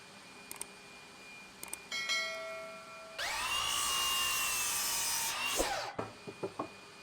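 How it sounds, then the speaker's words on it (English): A miter saw set to a 10-degree angle cuts CLS 3x2 timber legs for a garden coffee table: a few light clicks, then the motor whines up and the blade saws steadily for about three seconds before winding down, followed by knocks. "I pivot the miter saw to a 10-degree angle so that I can start cutting the legs to length."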